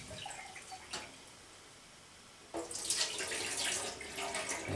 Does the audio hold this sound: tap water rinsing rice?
yes